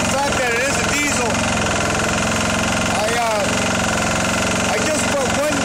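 Engine of a 1999 Polaris 4700 diesel quad running steadily at a loud, constant idle-like drone throughout, with a voice talking over it.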